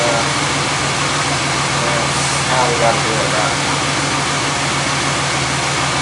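A steady engine drone fills the whole clip, loud and continuous, with someone speaking briefly over the running van.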